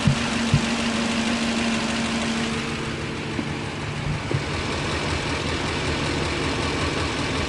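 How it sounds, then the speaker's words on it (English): A box camper's engine idles steadily up close after a breakdown, a continuous low rumble with a faint hum and no talking. "Seems to be idling a lot better now"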